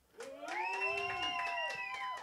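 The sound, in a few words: crowd cheering for battle rapper Bonez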